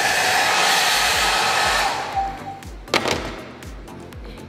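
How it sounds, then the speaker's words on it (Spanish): A wall-mounted hair dryer in a gym changing room runs with a loud, steady broadband roar for about two seconds, then cuts off, leaving faint room noise and a few soft knocks and taps. "Por acá tenemos un secador, la cual funciona súper bien."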